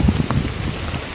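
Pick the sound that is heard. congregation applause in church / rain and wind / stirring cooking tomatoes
rain and wind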